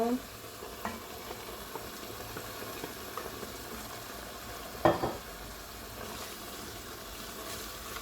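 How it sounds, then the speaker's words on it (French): Spinach goes into a pan of chicken in sauce made with granulated stock, frying with a steady low sizzle while it is stirred, one louder clatter of spoon against pan partway through. "Donc là, je vais venir mettre les épinards."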